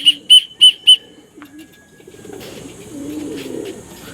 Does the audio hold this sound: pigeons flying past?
yes